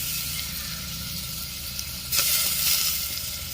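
Cleaned prawns, washed with salt and turmeric, drop into a hot clay pot and give a sudden loud sizzle that keeps hissing strongly after a quiet simmering lead-in, with no voices.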